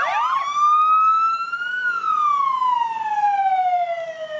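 A police motorcycle unit's siren wails loudly at a St Patrick's parade in Annapolis, a single long rising then slowly falling tone sounding close and alone.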